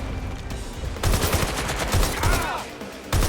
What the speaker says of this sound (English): Did you hear that gunshot?